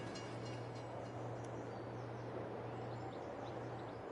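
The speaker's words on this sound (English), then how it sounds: "Train's coming." In the Farming Simulator 22 video game, a train rolls along the tracks as a low, steady rumble with a constant hum. Faint chirping birds sit over it, and the whole sound stays soft and distant.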